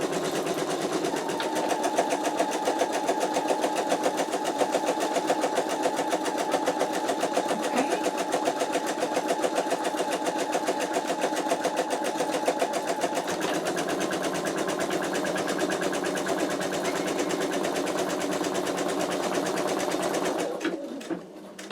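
An embroidery machine runs a placement stitch for an in-the-hoop wallet, a steady close mechanical whirring hum with rapid needle rhythm that continues for about twenty seconds before stopping abruptly.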